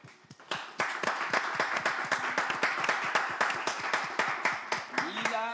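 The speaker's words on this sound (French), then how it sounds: "Je vais vous demander d'applaudir, s'il vous plaît." An audience at a school contest claps in a steady, rhythmic unison beat for several seconds, loud and close, while voices chime in near the end.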